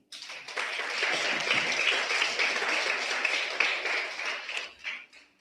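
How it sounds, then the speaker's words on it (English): An audience at a primary school environment quiz championship and expo applauds the students, a dense, sustained round of clapping lasting several seconds before tapering off at the end. "Give them a round of applause."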